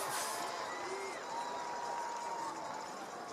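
Crowd at a varsity high school football game, a broad, distant wash of cheering and clapping from the stands, with people talking over it.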